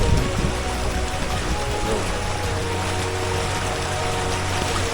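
Heavy monsoon rain pours down on Alidhra village near Mendarda, Gujarat, as a steady, dense, loud hiss that continues unbroken throughout.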